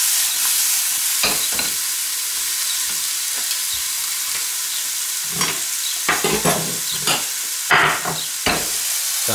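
Double cream sizzling and bubbling in a frying pan alongside red mullet fillets, a steady hiss with scattered stirring scrapes and louder spits toward the end, no voices.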